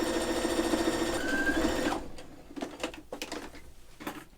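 A serger sewing around the bottom of a bag made from curtain fabric whirs steadily and closely for about two seconds, then stops. Faint clicks and handling noises follow.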